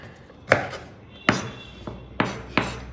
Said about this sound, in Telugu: అల్లం చాప్ చేసుకొని కట్ చేసుకొని